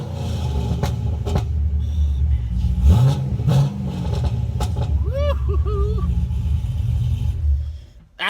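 A dyno-tuned C6 Corvette Grand Sport V8 making nearly 500 horsepower rumbles deeply at close range, with a short rising rev midway before the engine note drops off at the end.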